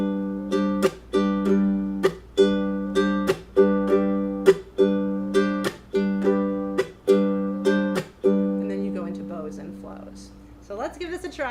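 Ukulele strumming a song at a brisk practice tempo, ringing chords punctuated by regular percussive chuck mutes, ending as a voice begins speaking.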